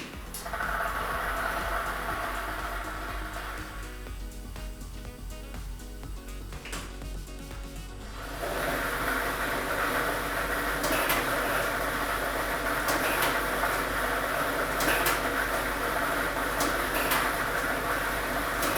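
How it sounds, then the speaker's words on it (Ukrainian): A lottery draw machine for Ukraine's Loto Maksyma tumbles numbered balls from ball set number 2, a steady mechanical whir that swells into a louder continuous rattling roar about halfway through, alone without talk. "комплект кульок номер 2 і ми вмикаємо лототрон"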